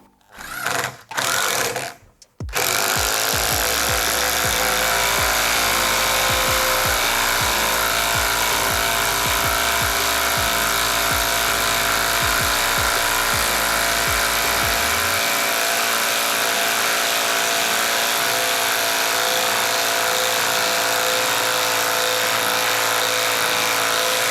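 Vitals Professional WI 1423il electric impact wrench unscrewing, a loud, close, sustained whirring drive with rapid hammering impacts, starting after a few short bursts and running continuously, with the rattling impacts stopping partway while the motor keeps spinning.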